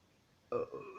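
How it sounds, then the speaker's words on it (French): A single short, loud burp that bursts out after a near-silent moment, rumbling briefly before trailing off. "Pardon, mais pourquoi j'en ai marre de roter à chaque épisode,"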